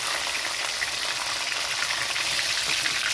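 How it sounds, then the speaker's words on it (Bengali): Steady, dense sizzling of tilapia fish frying in hot oil, a continuous crackling hiss close by with no pauses. "মাছটা ভাজা হয়ে গেছে, নামিয়ে নিয়েছি"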